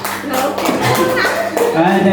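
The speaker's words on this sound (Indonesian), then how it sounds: "Jadi sudah Bapak Ibu tepuk tangan dulu." Teachers in a training session clap their hands together in a short burst of sharp, close claps, mixed with some background voices and chatter.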